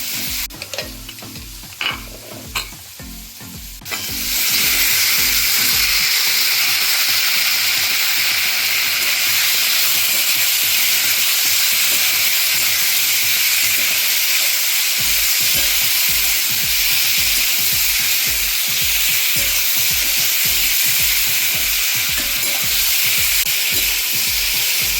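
Boiled potatoes and papaya fry in spiced oil in a pan, a loud continuous sizzle with regular scraping stirs of a spatula, after a few quieter seconds of clinking, with no talking.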